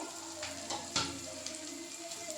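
Onion fries in a pan for homemade chowmein with a steady close sizzle, broken by a few brief scraping stirs.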